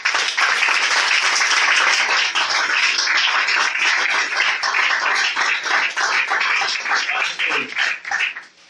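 A church congregation claps and applauds continuously for several seconds, a dense, loud, sustained crowd applause that fades slightly near the end, with no talking over it.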